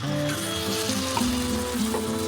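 Water poured into a hot pan of Bengali okra curry made with sesame paste sets off a loud, continuous sizzle with bubbling that runs steadily throughout, no voices present.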